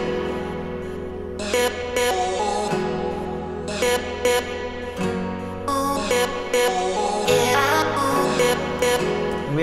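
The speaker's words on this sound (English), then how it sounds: "And then the vocal chops sound like this." Pitched melodic vocal chops in an electronic track play in short rhythmic bursts over sustained synth chords and a steady low end, loud and close without talking.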